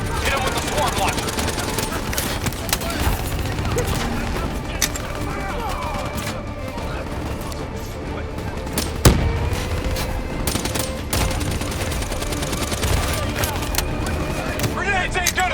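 Sustained automatic gunfire and explosions in the Call of Duty Black Ops III video game, dense bursts layered under shouted combat voices, with one sharp louder blast midway.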